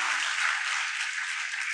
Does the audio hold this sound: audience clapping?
yes